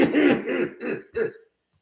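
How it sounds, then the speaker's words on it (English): A person coughs and clears their throat after sipping water, a few close, rough bursts in quick succession that stop abruptly into silence. "It's making me cough."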